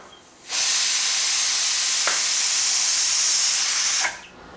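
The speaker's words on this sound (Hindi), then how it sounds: "अब अपन कुकर में सीटी आएगी है तो गैस न बंद कर दें" A pressure cooker on a gas stove, cooking aloe vera for a traditional Rajasthani pickle, lets out a loud, steady hiss of steam for about three and a half seconds before cutting off, with no talking.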